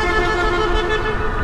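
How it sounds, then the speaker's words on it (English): A car horn honks in street traffic in Vietnam, a single sustained blare that lasts the full moment, loud and close, over the hum of the road. "What you honking for"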